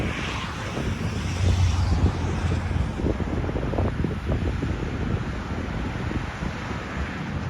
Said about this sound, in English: Yeah, there's traffic out here, I can really barely hear you.